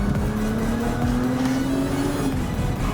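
A BMW 135i with the N54 engine revs hard and close, its engine note climbing steadily and staying loud and continuous throughout.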